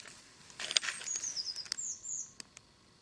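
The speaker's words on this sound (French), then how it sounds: "Vous entendez les petits oiseaux là?" Small birds chirp outdoors in the Cantal countryside of France: a few faint, high tweets and a thin sliding call, heard distantly against quiet air.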